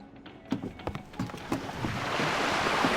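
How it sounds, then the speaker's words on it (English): In World of Warcraft Classic, a ship's wooden creaks and knocks sound over a gentle wash of water, which swells into a steady rushing surf by the end. "I always liked the creaking sound effects and the pirate music playing"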